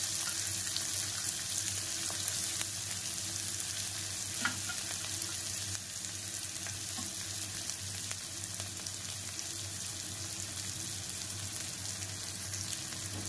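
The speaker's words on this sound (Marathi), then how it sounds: "हा कांदा आपला छानपैकी असा आपण भाजून घ्यायचा।" Onion frying in a pan for a pressure-cooker pea and potato bhaji, with a steady, dense sizzle and occasional stirring scrapes that hold at an even level throughout, no voices.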